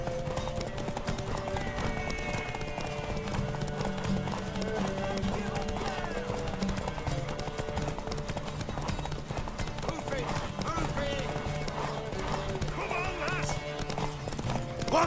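Horse hooves clip-clop steadily with a whinny rising over them in The Witcher 3: Wild Hunt, set under game music and spoken dialogue throughout.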